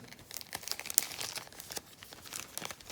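An improvised plastic bag being opened, crisp crinkling and rustling in quick bursts at close range with no speech.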